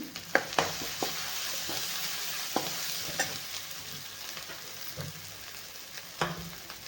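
Masala with turmeric fries in oil for stuffed brinjal, a quiet steady sizzle broken by about a dozen soft clicks and taps of a spoon stirring the pan, with no talking.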